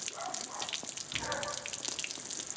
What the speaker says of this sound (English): I got the water turned on